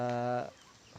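A single short chicken call from a backyard flock of ducks and chickens rings out briefly, then fades into quiet.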